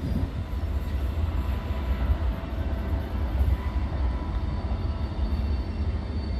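A train rumbles past continuously, with a heavy low-frequency roar and faint rhythmic rail clatter, loud and steady for the whole stretch.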